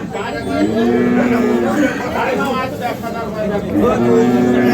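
A bull gives low, drawn-out moos close by, loud and continuous, while people chatter around it at a busy outdoor cattle market.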